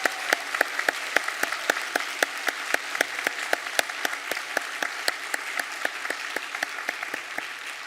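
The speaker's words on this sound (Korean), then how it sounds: "우리 박수로 격려와 축하를 드리겠습니다." Congregation applause at a Wednesday church service in a Korean church, welcoming a newly ordained pastor; steady dense clapping from a roomful of people throughout, with sharper individual claps standing out.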